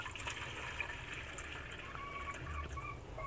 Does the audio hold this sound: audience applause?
no